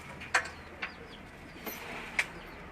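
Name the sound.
white pigeons cooing in a cage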